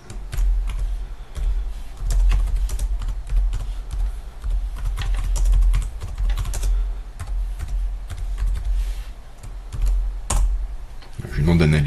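Someone types a prompt on a computer keyboard, a brisk, close run of clicking keystrokes over a dull thumping background for the full stretch, without voices.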